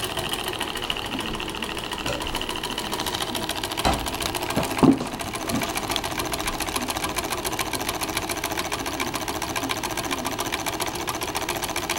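A Wiggers Stirling engine runs steadily at close range, a fast even mechanical ticking and whir that holds the same rhythm throughout, broken only by a brief knock midway.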